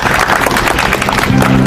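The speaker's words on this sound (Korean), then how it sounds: "큰 박수로 맞이해 주시기 바랍니다" Audience at an outdoor election-fraud protest rally in front of Daehanmun applauds to welcome a professor to the stage, a dense, steady wash of clapping lasting throughout, with a brief tonal hum near the end.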